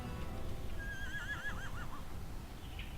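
Horse neighing in the video game Torchlight, a single whinny that rises and then trembles downward over about a second, heard over a steady low ambient rumble with faint clip-clop hints.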